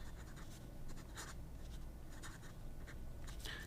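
A Scribo Fine Flex gold fountain pen nib scratches softly across paper in short, quick strokes, faint and close with a low background hum.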